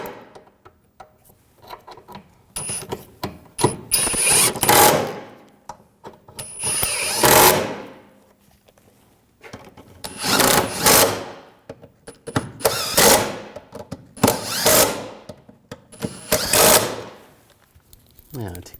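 A ratchet tightens bolts on a rear lower control arm of a 2007-2013 BMW 328i, giving bursts of rapid, close metallic clicking separated by short pauses.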